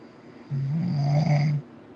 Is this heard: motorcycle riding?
no